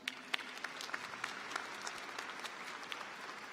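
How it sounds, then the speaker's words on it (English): Applause from an audience at a Southern Law Center graduation ceremony, a moderate steady patter of many hands with a few sharper individual claps standing out. "Would you give them, as a collective group, a round of applause?"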